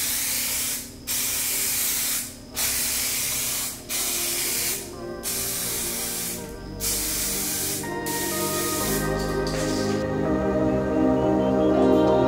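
Aerosol spray paint hissing onto a BMW E36 car trim piece in bursts, several short sprays separated by brief pauses, then a longer continuous spray, close and loud.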